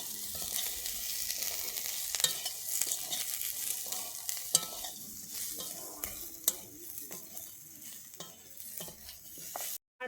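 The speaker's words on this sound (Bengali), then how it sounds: "কস্তুরি মেথি একটু দিয়ে আমি আবারও এইভাবে ভাজতে থাকবো" Karela sabzi with green chillies and kasuri methi fries in a pan, a continuous bright sizzle broken by repeated scraping strokes of a spatula stirring close up, with no voices.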